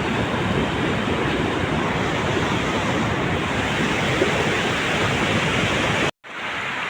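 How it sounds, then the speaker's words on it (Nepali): Water pours from a hydropower site into the Pikhuwa Khola river in Bhojpur as a constant, loud, close roar. It cuts out abruptly near the end. "यसरी खोलामा फालिरहेछन् पानी।"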